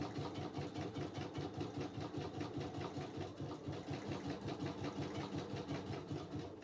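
A sewing machine stitches gold thread for a napkin ring appliqué, running steadily with a fast, even mechanical chatter that fills the whole stretch, close and fairly loud with no voices over it.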